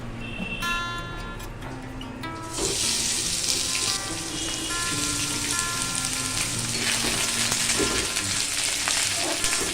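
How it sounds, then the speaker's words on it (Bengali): Steady hiss and crackle of beans frying in a hot pan, loud and close, with a few light clinks of a utensil stirring. "আমাদের বিনসটা ভাজা হয়ে গেছে"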